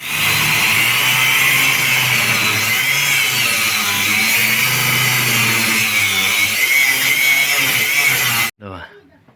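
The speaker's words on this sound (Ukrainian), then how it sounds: "треба зрізати все-таки болгаркою" A loud, steady angle grinder whine with a bright, harsh high tone cuts metal on a car during repair continuously for several seconds, then stops abruptly.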